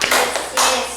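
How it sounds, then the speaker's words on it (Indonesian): A Grade 5 class claps together on a teacher's cue during an elementary school lesson: a few sharp, close group claps in quick succession, with no talking over them. "kita akan tepuk dulu"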